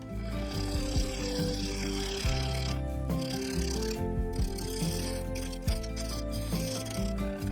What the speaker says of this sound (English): I turned the lathe speed up to around 450 RPM and set to removing material with a 1/2-inch bowl gouge